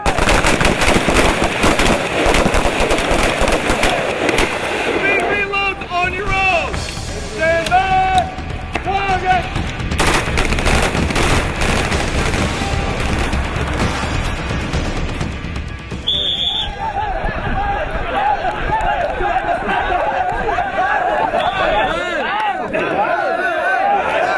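Live weapons fire during night-time military training in the CARAT 2010 exercise, loud continuous bursts of automatic gunfire and shots sustained throughout, close and harsh, with no voices standing out.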